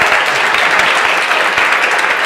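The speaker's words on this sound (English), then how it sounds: "Let's give a big round of applause for Amy and Borge." A Startup Grind Silicon Valley audience applauds Amy Pressman and Borge Hald with loud, dense, steady clapping that continues throughout.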